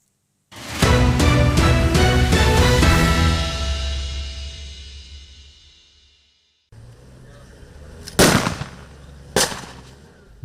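Gunshots fired during a military training exercise at sea, a rapid burst of sharp loud reports ringing into a long fading echo, then two more separate heavy shots after a short gap.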